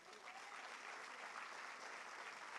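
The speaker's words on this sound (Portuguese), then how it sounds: "Aplauda o Senhor Jesus." A church congregation applauds in a continuous, even roar of many hands clapping, heard faint and slightly distant throughout with no one speaking over it.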